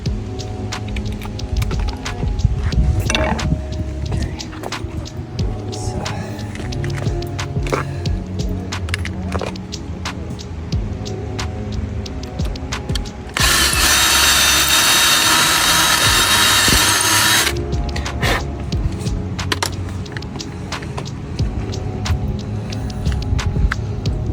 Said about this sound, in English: We just gotta drill it out to the bigger size.